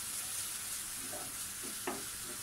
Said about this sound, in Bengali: এখন এই নারিকেল আর মশলা কম করে হলেও 10 মিনিট একেবারে ভাজা ভাজা করে ভাজতে হবে